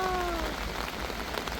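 Steady rain falls on a long suspension bridge in South Korea, a dense, even hiss of drops with a few faint descending tones near the start.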